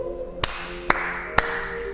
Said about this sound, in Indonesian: tepuk tangannya 3 kali